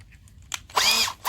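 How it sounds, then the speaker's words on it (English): A power drill spins up in short bursts while starting a hole for a Warn bull bar bumper mount on a Jeep, its whine rising and cutting out twice, close and fairly loud. "you got to start the drill bit"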